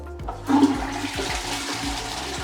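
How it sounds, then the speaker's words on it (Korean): A toilet flushes nearby with a sudden rushing gurgle of water, then a steady swirling drain, with no talking. "그다음에 토일렛 우리가 플러싱 잘 되는지 네. 한번 확인해 보도록 할게요"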